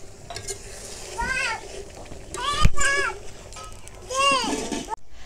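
Cauliflower korma cooking in a pan on medium-low heat, with a steady sizzle and occasional stirring scrapes and a metallic clink, under a woman's speech that runs through most of the clip.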